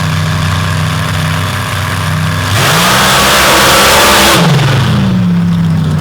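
Open class drag racing cars idle loudly in both lanes at a strip, then launch together in a sudden roaring blast that holds for about two seconds before dropping off into a receding whine.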